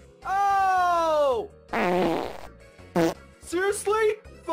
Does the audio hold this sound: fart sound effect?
yes